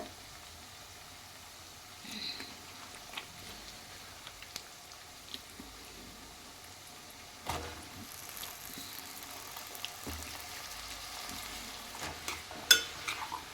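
Broad beans tossed into a pan of fried onions for a fish curry, a quiet low sizzle with sparse scrapes and taps of a spoon, growing slightly busier near the end.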